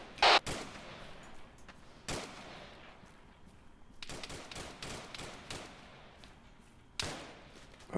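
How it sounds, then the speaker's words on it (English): Gunshots in the video game Arma 3 at a highway roadblock: a scattered series of sharp cracks, some single and some in quick bursts, moderately distant, over a low ambient hum with no talk. "Shots up the road."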